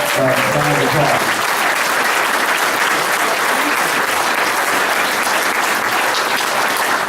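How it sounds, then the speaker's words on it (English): Sustained applause from a dinner crowd honoring the chef and his family, loud and dense throughout, with a brief trace of voice at the very start. "we owe Chef Yancey, his wife and partner, Christy, and daughter Haley, a big round of applause"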